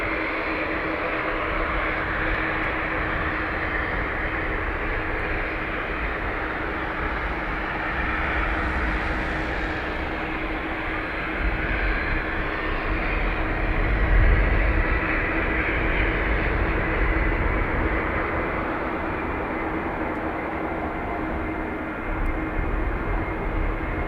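A jet aircraft roars steadily down the runway on takeoff at Dublin Airport, with a loud broad rumble throughout that swells slightly midway.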